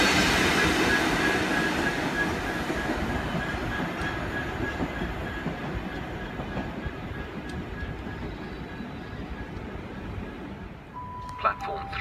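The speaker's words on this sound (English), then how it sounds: "Well, we've got some good brake action down here." Train braking at Ealing Broadway station in the UK, a steady loud rumble of rolling stock throughout with a faint metallic squeal of brakes near the end, under occasional speech.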